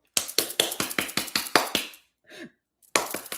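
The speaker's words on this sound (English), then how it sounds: "is going to come knocking on the door, that glass door." Knuckles knocking on a glass door, a quick run of about eight sharp, bright raps close up, then a brief faint rustle and a pause before a second burst of knocking starts.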